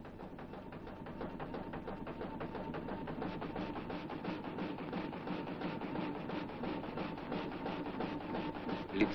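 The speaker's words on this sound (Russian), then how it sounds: "Звон пилы привел нас сюда." A saw cuts through wood at a Yakutian taiga work site in 1958, a steady, even rasping of rapid strokes that runs continuously at moderate level with no other sound.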